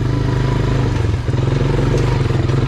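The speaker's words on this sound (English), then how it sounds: "This quad has an extra low first gear for pulling trailers and going up hills that you can't beat." Quad ATV engine chugging steadily in extra low first gear on an off-road trail, a loud, close, continuous low rumble with a brief dip midway and faint clatter over it.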